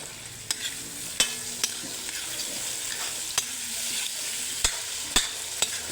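Sardines sauté with tomatoes in a hot pan, giving a steady close sizzle broken by sharp, irregular clacks of a spoon stirring against the pan.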